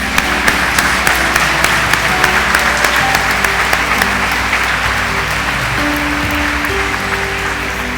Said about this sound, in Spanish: Un aplauso para los caballeros.